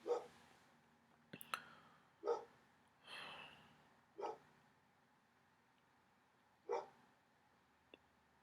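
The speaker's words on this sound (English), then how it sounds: "I can't think when the dog barks." A dog barks in short single bursts, about five separate barks spaced irregularly, fairly near but not loud, with quiet gaps between.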